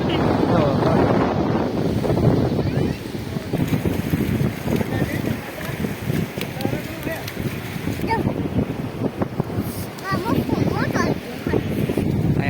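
Strong wind buffets the microphone while sea waves crash and wash ashore nearby after rain; a voice talks over the steady, noisy surf.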